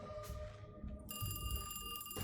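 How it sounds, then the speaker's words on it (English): A telephone rings in the horror video game Alone in the Dark (2024), a faint electronic trill that rises out of a low ambient rumble and then holds steady. "Answer the phone?"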